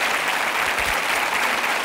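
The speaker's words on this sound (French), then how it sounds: "on vous applaudit que ça aille très bien" A studio audience at a French television talk show bursts into dense, steady applause. The many hands blend into a loud, continuous wash that lasts throughout with no pauses.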